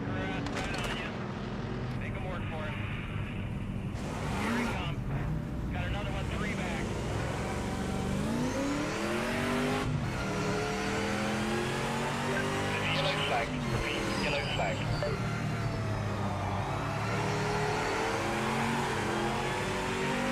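A Grand Sport race car engine in Project Motor Racing revs and shifts repeatedly, its pitch climbing and dropping through gears for about twenty seconds, with a person talking over it.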